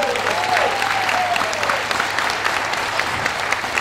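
Audience at a business leadership training seminar applauding, a dense, steady patter of many hands clapping throughout, fairly close and even, with a brief whistle-like tone early on.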